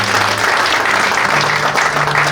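Dense, sustained applause from an audience at a French-speaking Christian event, loud and close, steady throughout with no distinct individual claps or voices standing out.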